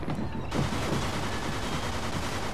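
Gunfire in the Xbox 360 game Mafia II rattles as a dense, continuous burst of shots at steady loudness.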